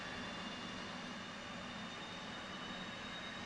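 An F/A-18C jet engine spools up during start-up, a steady broadband roar and hiss with a faint high whine, constant and unbroken throughout with no voices.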